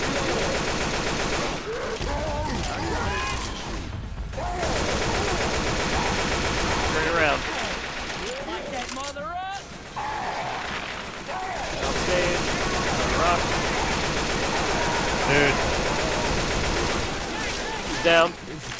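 Scattered gunfire during the Dark Carnival finale of Left 4 Dead 2 on Expert, bursts of shots mixed with chaotic game noise and creature sounds, with people talking over much of it.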